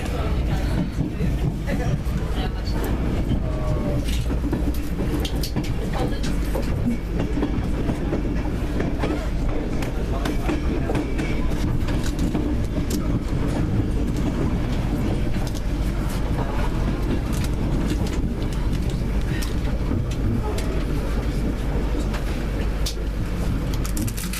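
A train rolls into Doncaster with a continuous loud rumble and rattling wheels heard from on board, steady throughout with a faint rhythmic clatter and a muffled voice now and then.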